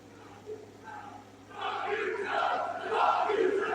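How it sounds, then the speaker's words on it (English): An arena crowd at an AEW Dynamite wrestling show breaks into a loud, rising chant, distant and massed, building over a few seconds with no single voice standing out. "the crowd with the F you Joe chants"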